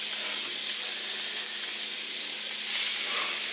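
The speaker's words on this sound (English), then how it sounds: "I'm going to take our pork chops and I'm going to just sear them off" Pork chops sear in a hot pan with a steady, bright hiss of sizzling fat that holds level throughout and swells slightly louder toward the end, with no voices over it.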